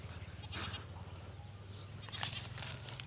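Goats bleat twice, short nasal cries close by, separated by a low steady hum with no talking.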